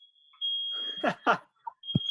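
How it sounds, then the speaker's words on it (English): A high, piercing alarm beep sounds at the start and again at the end, with a person speaking in between. "my girlfriend just set the smoke alarm"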